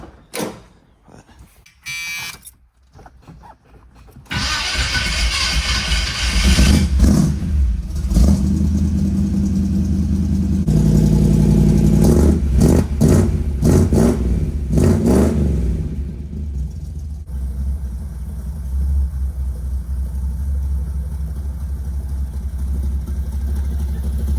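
A car engine fitted with an Amazon Quadrajet carburetor starts up after a few seconds and runs loud and close, with a burst of repeated revs in the middle before settling back to a rough idle.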